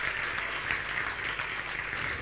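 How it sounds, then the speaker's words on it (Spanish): Audience applause for the people who came from Corrientes at a live concert at La Trastienda, a steady, dense wash of clapping filling the room from start to finish with no voices over it. "un aplauso fuerte para la gente que vino de Corrientes"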